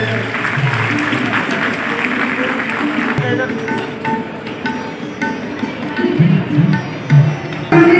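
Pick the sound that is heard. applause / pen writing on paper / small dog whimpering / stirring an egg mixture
applause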